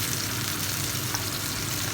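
A steady sizzle of tomatoes frying in a hot pan, continuous and close, with no talking.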